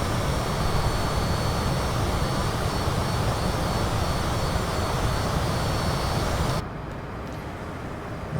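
Citation CJ4 business jet climbing in Microsoft Flight Simulator: a loud, steady broadband jet engine roar with a faint whine, continuous for most of the stretch before the level drops abruptly near the end.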